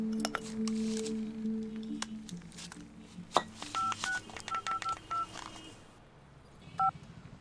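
Telephone keypad dialing tones, a series of short clipped beeps in an irregular rhythm followed by a final pair, heard over quiet background noise and low tones from a crime thriller scene.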